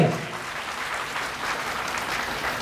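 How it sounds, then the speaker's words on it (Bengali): Audience applause at an LPS campus celebration night, a steady dense clapping from a crowd, moderately loud and continuous, with no voices over it. "এলপিএস 1 নম্বর ক্যাম্পাসের জন্য একটা তালি হবে।"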